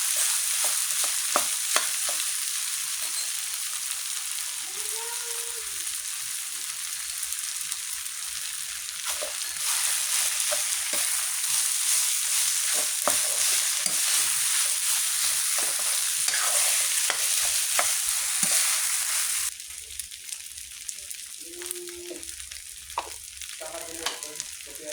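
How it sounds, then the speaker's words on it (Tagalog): Leftover rice frying in a pan, a continuous close sizzle with frequent scraping stirs, quieter toward the end. "Ipiprito natin ang kanin para pangkain mamaya."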